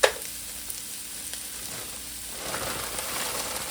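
Peas and mushrooms fry in a pan for fried rice, giving a steady close sizzle with a sharp clink at the start. The crackle grows louder and busier toward the end, and no one speaks.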